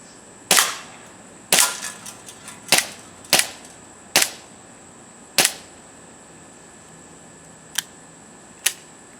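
An Umarex P08 Luger replica CO2 pistol fired at cans, sharp snappy pops spaced about a second apart, some followed by light metallic clinks, then two fainter shots after a pause.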